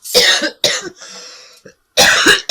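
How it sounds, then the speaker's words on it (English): Loud, harsh coughing close up from a cough lingering for weeks: two forceful coughs, a rasping wheezy breath, then another heavy cough burst. "I'm so sorry about this cough."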